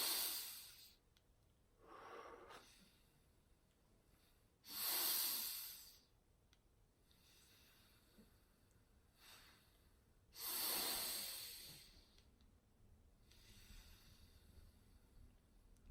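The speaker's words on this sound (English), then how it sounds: "first we go big inhales through the nose and big exhales through the nose" Slow breathing exercise with big inhales and exhales through the nose, a few long airy rushes spaced several seconds apart, close and quiet with no talking.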